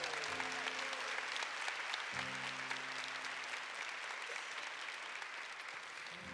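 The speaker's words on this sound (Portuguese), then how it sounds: "E aplauda o nome de Jesus." A church congregation applauds steadily and fairly loudly for the whole stretch, with sustained organ or keyboard tones sounding beneath the clapping.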